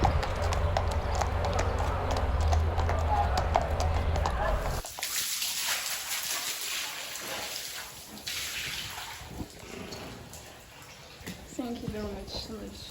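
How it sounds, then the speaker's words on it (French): Horses walk at a slow pace around a stable yard, their hooves clip-clopping steadily at close range, mixed with running water and a person talking. "on fait souvent une petite balade autour des écuries de 10 minutes au pas pour détendre les chevaux"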